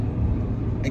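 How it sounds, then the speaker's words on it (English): Steady low rumble of a car's engine and road noise from inside the moving vehicle, a continuous drone with no talk over it. "We're in the car. We're driving."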